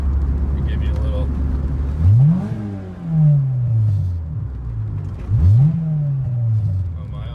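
A Honda engine revs twice in quick succession, each blip sweeping up sharply and then sliding back down to a rumbling idle, loud and close throughout.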